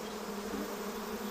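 Giant Asiatic honeybees from a wild colony in Malaysia hum as a dense, steady swarm buzz that holds at an even, fairly loud level with no pauses and no voices.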